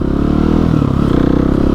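A Husqvarna 701 motorcycle engine runs loud and close with a steady, rapid thumping pulse and a rough mechanical clatter, no talking.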